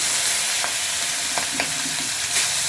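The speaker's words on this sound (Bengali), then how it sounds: "ভাজা করছি" Rohu fish frying in very hot oil makes a loud, dense, continuous sizzle and hiss, with occasional soft stirring sounds and no voices.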